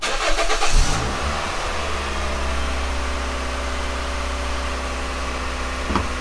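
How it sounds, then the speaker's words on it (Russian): A car engine starts at a test setup for an air suspension compressor comparison, a short cranking burst catching into a steady, even idle that hums on for several seconds without talk. "Заводим машину."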